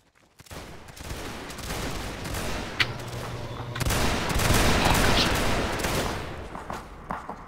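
Musket volley fire during a Mount & Blade Napoleonic Wars line battle: dense, overlapping shots crackle throughout, with a sharp report near three seconds and a louder rolling burst of fire from about four seconds on.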